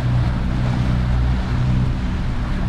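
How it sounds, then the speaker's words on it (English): A 26ft center console boat with newly repowered outboard motors cruises on plane at about 30 mph, a loud, steady low engine drone mixed with rushing water and heavy wind buffeting. "We're cruising up on plane at about 30 miles an hour."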